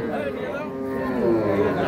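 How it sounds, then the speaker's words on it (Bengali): A young six-tooth dairy cow with her heifer calf lows with a long, full moo at a busy rural cattle market in Ambari, rising slightly in the second half over steady background crowd murmur. "বকনা বাচ্চা, 6 দাঁত বয়সের গাভী"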